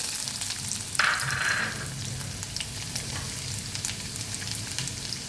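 Finely chopped garlic with dried red chillies sizzles in oil in a pan while being stirred, a steady close crackle and hiss with a brief brighter burst early on and light irregular spoon strokes.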